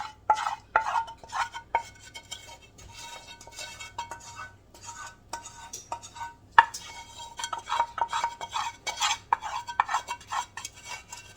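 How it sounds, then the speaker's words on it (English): Chocolate chips are stirred into thick brownie batter in a pan, giving a run of close, quiet scraping and clinking strokes with brief pauses; no talking. "Go ahead and add our chocolate in the pan."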